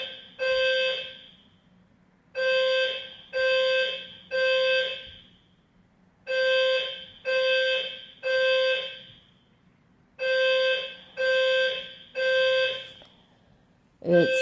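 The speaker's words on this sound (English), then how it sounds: "They have to do these tests to make sure that the alarms work" Building fire alarm sounding during a test, a loud electronic tone pulsing in repeated bursts of about three with short gaps, alone in the room.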